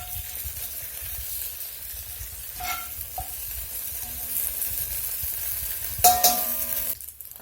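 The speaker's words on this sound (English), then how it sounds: "those have been sauteing there in that oil a minute or 2" Chilies toast and sauté in oil over high heat, a steady close sizzle with a few scraping stirs and a louder clatter near the end, no talking.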